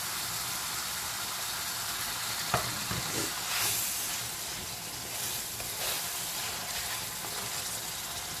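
Whole spices and chicken sizzling and frying in a pot of Khaday Masalay Ka Murg while being stirred and mixed, a steady close hiss of hot oil with a few sharper scraping knocks from the spoon against the pot.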